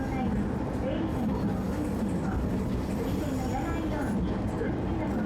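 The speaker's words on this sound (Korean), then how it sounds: "이 전철이 이렇게 이 시골역 플랫폼으로 들어오는 이 전철" An electric commuter train rolls into a rural station platform in a film soundtrack, giving a steady, close, continuous rumble of wheels and motor that fills the whole stretch with a low murmur mixed in.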